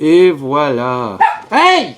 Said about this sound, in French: c'est juste mon chien qui a jappé